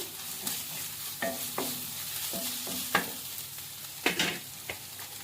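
Turmeric and salt stirred into green chilli and ginger paste in a pan, with repeated scraping strokes at an irregular pace over a low sizzle, close by and free of voices.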